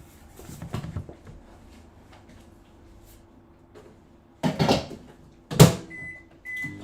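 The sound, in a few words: microwave oven running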